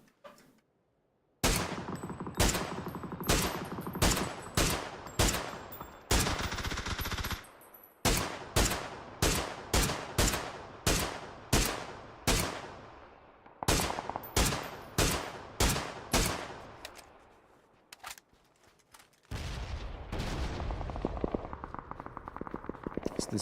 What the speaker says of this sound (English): He's shooting at someone else.